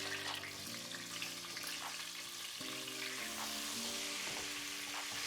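Chiles gueros and green onion sautéing in leftover bacon oil, a steady close sizzle and crackle with faint clinks of stirring, no voices.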